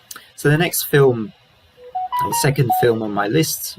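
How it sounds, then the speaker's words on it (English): A mobile phone ringtone plays a short sequence of bright stepped electronic tones in a pause between a man's spoken sentences, close and clear, with his talk resuming right over it. "apologies, that's my phone, should have turned the sound off."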